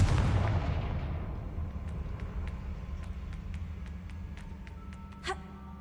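A fire spell explodes in the video game Hogwarts Legacy, starting with a loud, close boom whose rumble decays over several seconds. Faint crackles follow, then a brief sharp pop near the end.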